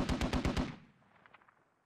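A short burst of about six rapid machine gun shots rings out loud and close in the Squad military shooter game, then dies away into a fading rumble with a few distant cracks.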